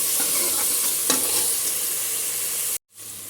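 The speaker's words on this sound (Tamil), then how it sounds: "இப்போ தக்காளி வதங்கிச்சு." Tomatoes sauté with onions in a pan for cumin rice, giving a loud, continuous sizzle and a scrape of stirring, before a brief cut to near-silence and the frying resumes.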